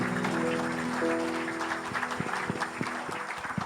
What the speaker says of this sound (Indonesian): Mari kita kasih tepuk tangan yang kuat